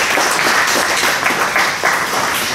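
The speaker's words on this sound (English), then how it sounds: "So give him a round of applause." A room full of people applauding, steady dense clapping throughout at moderate loudness.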